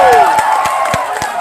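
Audience clapping and cheering at a live comedy show at Baikho Dera 2022 in Manikganj, a dense steady burst of claps near the stage, with voices mixed through it.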